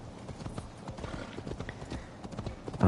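Horse hooves clip-clopping in the video game Assassin's Creed Valhalla, a steady run of close, rhythmic hoofbeats ending in a loud snort or whinny.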